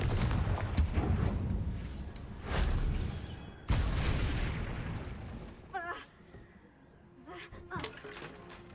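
Spell blasts from the Hogwarts Legacy video game land as several sharp, loud booming bursts, spaced a second or so apart, over busy game noise, with fainter crackles and effects after them.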